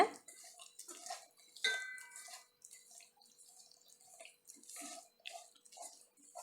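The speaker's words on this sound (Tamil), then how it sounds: "இப்போ தண்ணி ஊற்றி மிக்ஸ் பண்ணிடலாங்க" Soft intermittent trickling and dripping of water into homemade fish fry masala spice mix, with faint clinks, quiet and close, in short uneven bursts.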